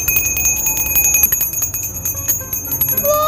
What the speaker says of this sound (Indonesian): Suara lonceng.